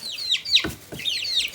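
Chickens cluck and murmur close by, a few short clucks and a squawk rising over soft barnyard background.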